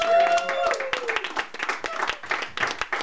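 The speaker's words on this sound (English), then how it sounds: "One more time for Han, guys. Clap it up." Audience applause at a comedy show in New York: a crowd clapping briskly and steadily close by, with a voice speaking briefly at the start.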